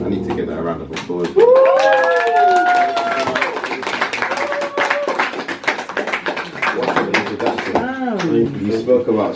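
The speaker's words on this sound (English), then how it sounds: "I need to get that round of applause." An audience at a hip-hop EP listening party bursts into a dense, close round of clapping mixed with cheering voices and whoops, loud and sustained throughout.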